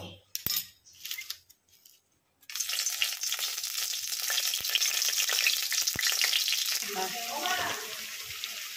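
A spice paste of ginger, cumin and coriander hits hot oil for a khichuri: after a few quiet clinks and scrapes, a loud, close sizzle bursts out and holds steady.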